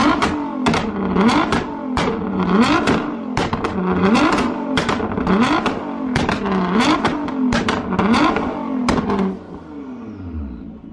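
Nissan GT-R R35 with an X Fi exhaust revving hard and spitting flames, a loud near run of sharp throttle blips and bangs repeating about every second, then dropping to a low idle at the end.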